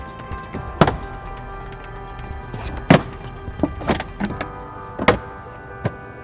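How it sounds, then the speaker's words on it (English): Interior trim panels pried off a 2020 Acura RDX with a trim panel tool, sharp plastic pops and snaps at irregular intervals over low rustling and handling, close up, no speech. "I'm going to use a trim panel tool to go ahead and remove our paneling."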